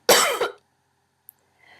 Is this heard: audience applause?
no